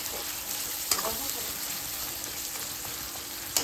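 Onions fry for biryani in a pan with a continuous, even sizzle and a few sharp scrapes or taps of the spoon against the pan.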